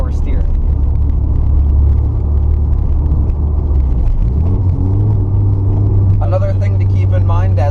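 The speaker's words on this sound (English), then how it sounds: "as I blip that throttle right there" Porsche 944 engine blipped at idle: a steady low rumble, then a rising rev swell and settle into a higher drone, with a voice talking over it near the end.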